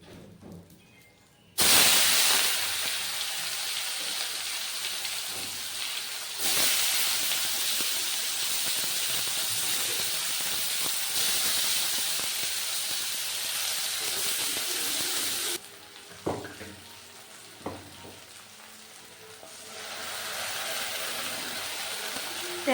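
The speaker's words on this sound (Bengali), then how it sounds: "পেঁয়াজ টমেটো লঙ্কা ভাজা ভাজা করে নিয়েছি।" Onion, tomato and green chilli frying in oil in a pan after fish head was fried, a loud continuous hissing sizzle that starts abruptly, with brief dips and a few clinks of stirring.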